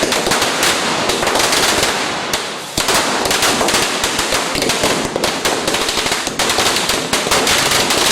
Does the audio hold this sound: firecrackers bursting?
yes